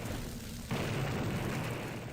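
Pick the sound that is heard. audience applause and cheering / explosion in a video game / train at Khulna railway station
explosion in a video game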